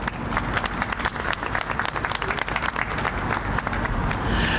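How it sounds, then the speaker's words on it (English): A crowd applauds steadily for several seconds, dense clapping at a constant loud level. "Please give a round of applause for him."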